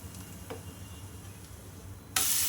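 A tomato omelette flipped over in an oiled pan: a soft, steady sizzle with faint ticks, then a sudden loud burst of hissing frying near the end.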